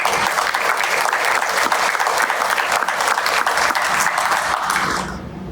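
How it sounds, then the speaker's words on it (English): A banquet audience applauds award recipients at an academic awards event, a dense, sustained wash of many hands clapping close and loud, tapering off at the very end. "Let's give a big round of applause for them, including Addison Herring."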